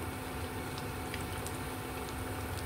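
Small battered bananas sizzle in hot oil, a dense steady frying crackle with faint pops, continuous and close with no voices.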